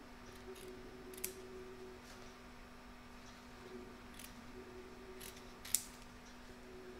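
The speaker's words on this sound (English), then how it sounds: "You're now going to trim up close to this stitch line, or these stitch lines should I say, here, to remove the excess fabric" Scissors snip close to stitch lines to trim excess appliqué fabric, a few sparse, faint clicks spread over a quiet background with a steady low hum.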